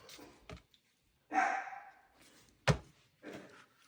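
A dog indoors reacts to someone at the door with a few separate loud barks and a gruff, breathy huff, each one short and spaced apart.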